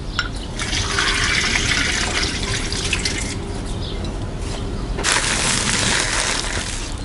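Water pours steadily into an Afghan kazan while boiled corn is being prepared, producing a loud, continuous splashing rush close by that surges briefly near the end.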